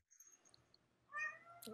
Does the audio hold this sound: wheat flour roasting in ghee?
no